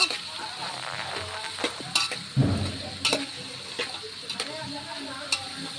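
Cucumber and brinjal curry with drumsticks stirred in a frying pan: a soft sizzle under repeated sharp scrapes and knocks of a spatula against the pan, with one low thud, close by and without talk.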